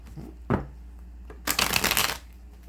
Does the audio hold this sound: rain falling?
no